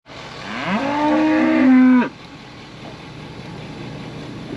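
A single long cow moo rings out in a farm pasture, loud and close, rising and holding for about two seconds before cutting off, leaving quiet outdoor ambience behind.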